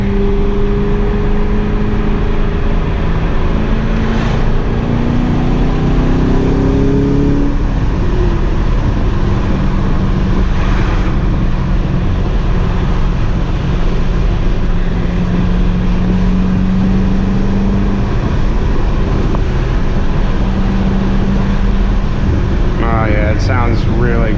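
Chevrolet Corvette Grand Sport fitted with an AWE Touring exhaust and X-pipe, a steady throaty engine drone heard from inside the car at cruise with a brief rise in pitch early on, loud and constant.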